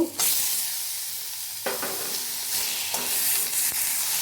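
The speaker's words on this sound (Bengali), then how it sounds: "দিয়ে এটাকে নাড়বো এইভাবে একটু নেড়ে নেব" Spice paste being stirred into mashed banana stem in a hot pan: a steady sizzle with soft scraping strokes of the spoon every second or so, close and fairly loud, no voices.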